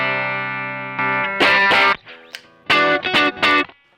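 Electric guitar played through a compressor pedal on a pedalboard with preamps: a sustained chord rings out, then bursts of strummed and muted chords in short phrases, evenly squashed dynamics, close and alone.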